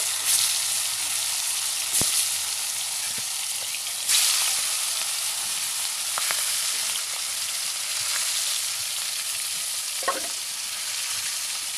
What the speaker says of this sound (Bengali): তো এখন আমি মাছটা ভাজি করার জন্য দিয়ে দিলাম। আমার তেলটা কিন্তু গরম হয়ে